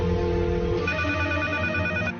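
A telephone rings with a loud electronic tone that shifts pitch partway through, close and alone.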